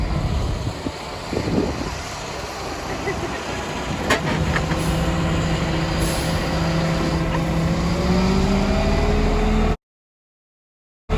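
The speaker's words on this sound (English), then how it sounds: "we get to see a truck dumping right now" A farm truck dumping silage at harvest time, with a steady heavy diesel engine rumble and rising hydraulic whine close by, a few sharp clanks near the middle, then a sudden cut to silence; people talk over it.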